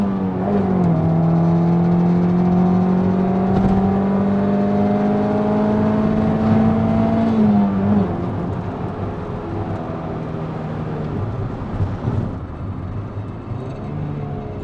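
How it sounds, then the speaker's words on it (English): A Honda CRX with a non-VTEC D16A9 1.6-litre engine revs hard and close, its rising engine note held high for several seconds before easing off into a lower, rougher idle-like drone. "That's probably the highest revs I've ever taken it."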